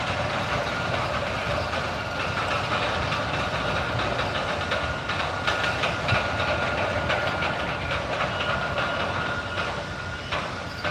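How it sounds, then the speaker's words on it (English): An overhead crane clatters as it travels side to side, a continuous rumbling rattle with scattered metallic knocks, moderately loud and steady with no talk. "So that clattering is the crane. When the crane moves side to side, that clattering"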